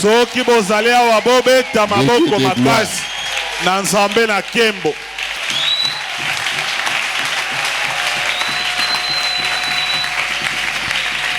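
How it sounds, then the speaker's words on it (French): A church congregation breaks into loud applause and cheering right after a singing voice fades, the clapping continuing steadily as a dense crowd sound for several seconds. "Alors si vous êtes là, acclamez très fort."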